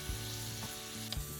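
Fish sauce and palm sugar bubble and sizzle in a pan while being stirred, a close, steady frying hiss with a couple of soft scraping strokes.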